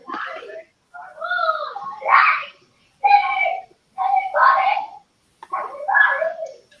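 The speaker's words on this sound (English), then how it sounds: "I don't know if you can hear like screaming children in the background" Children scream and wail in the background, several separate bursts of high, drawn-out cries with short quiet gaps between them, fairly clear and not covered by other sound.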